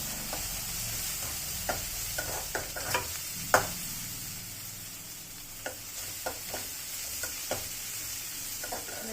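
Semolina toasting in a pan for upma is stirred steadily with a spoon, giving a soft continuous sizzle broken by scattered light scrapes and taps against the pan, close and alone.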